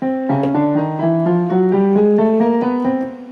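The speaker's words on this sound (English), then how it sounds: "So on our keyboard or on a piano, we have notes and they sound like this." A run of sustained piano notes played one after another in a steady rhythm, each ringing into the next, clear and close.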